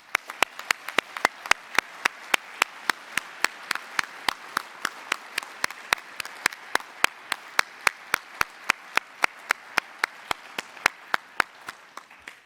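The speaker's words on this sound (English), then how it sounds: "Let's reward them with a round of applause." Applause for award committee members at the TMS AIME 2026 awards ceremony, heard as sparse, crisp claps in a fairly even, repeating rhythm across the whole stretch, moderately loud and with no talking.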